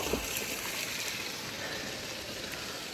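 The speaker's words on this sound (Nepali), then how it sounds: "हेर्नुहोस् मेरो बेबीले कस्तो पानी हाल्नु हुँदैछ" Water is poured over a car being washed at a roadside spot near Rodung, a continuous hissing splash that stays even and fairly close, with no talking.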